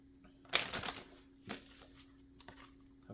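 A deck of cards shuffled for a card reading, a loud riffle burst followed by several softer flicks and shuffles, close and intimate in a quiet room.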